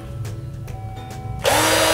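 Xenon CDID1845 18V cordless drill switched to its fast speed setting, a loud steady high-pitched whirring motor burst that kicks in abruptly near the end after quieter mechanical clicking and handling, with no talking.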